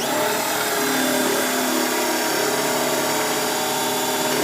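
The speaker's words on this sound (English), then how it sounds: "drilling this hole." A power drill boring a hole as a hand-tool project, a steady continuous whine held close and loud for about four seconds without pause.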